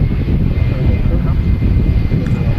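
Engines of a Jet2 Boeing 757 airliner, about 25 years old, at Manchester Airport: a loud, steady low roar filling the whole moment, with a voice talking over it.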